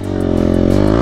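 A Hero Xpulse motorcycle pulls a wheelie on a mountain road near Dehradun, its engine revving loud and close in one steady rising drone that holds for about a second with no talk.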